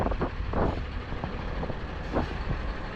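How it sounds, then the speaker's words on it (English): A big truck rolls past on a street in Lewiston, Maine, on a windy day. Its broad, steady engine rumble and road roar stay close and loud for the whole three seconds. "Big truck. I'll get past the truck."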